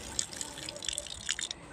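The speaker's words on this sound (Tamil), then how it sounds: "இங்கே தண்ணி திருப்பினா வருது" Water from a turned tap at a school splashes and trickles steadily into a basin, with small drips and patters throughout, fairly quiet and close.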